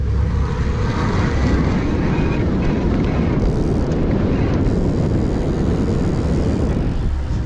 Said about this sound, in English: I'm going to go to a higher pedal cadence, which tends to raise the volume because the motor's operating quickly.